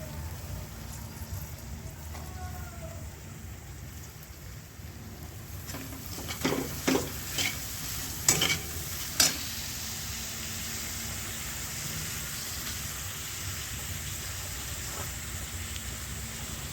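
Manchurian soup ingredients hiss steadily in a pan over a high flame, a constant rain-like sizzle with a short cluster of sharp metal stirring knocks in the middle.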